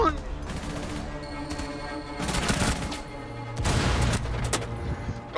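Gunfire in Rainbow Six Siege, a few sharp shots and bursts scattered over a noisy in-game background with mechanical clatter and faint voices.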